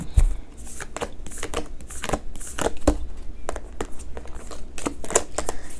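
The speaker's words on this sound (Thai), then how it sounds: "เดี๋ยวครูจะเลือกไพ่เลขนำโชคให้นะจ๊ะสี่เลขสำหรับคนวันอาทิตย์" Tarot-style fortune-telling cards being shuffled by hand, a run of crisp riffling flutters and soft slaps repeating in quick irregular bursts, close and fairly loud, with no talking.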